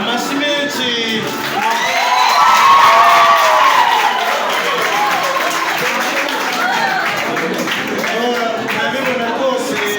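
Guests at a wedding in Gisozi, Kigali, applaud and cheer loudly together, with whoops and shouting voices swelling over sustained clapping.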